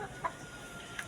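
Chickens at a pigeon loft in San Narciso, Quezon give a couple of short, faint clucks against quiet background noise.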